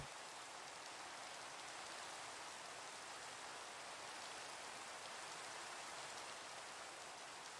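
Steady broadband hiss of rain falling in Minecraft, a constant even wash through the whole stretch with no talk, level and unbroken from start to finish.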